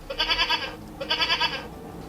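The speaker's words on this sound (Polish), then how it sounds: "Owieczka beczy." A sheep bleats from an electronic educational activity cube, two wavering, quavering baa calls, each with a pulsing tremolo, loud and close with a short pause between them.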